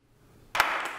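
Sudden burst of audience clapping at a Startup Grind Tallahassee talk, starting about halfway through and staying loud and steady to the end after near silence.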